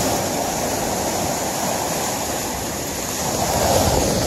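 Ocean waves wash continuously along the Sunshine Coast and Vancouver Island Gulf shoreline, a broad steady surf roar that swells a little near the end.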